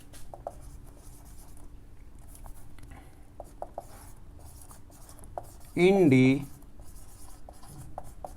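Marker or chalk writing on a board during a Class 11 physics lesson on units and measurements, a steady faint scratching of short strokes running throughout, briefly covered by a single spoken word.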